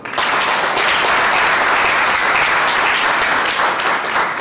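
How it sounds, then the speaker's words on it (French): Guests applaud at a civil wedding ceremony in a registry office, a loud, dense burst of many hands clapping together for several seconds. "Applaudissons pour elle."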